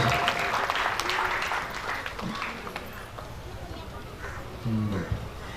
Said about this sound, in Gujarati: તાળીના ગણગણ સાથે વધાવો ગાજો સાથે.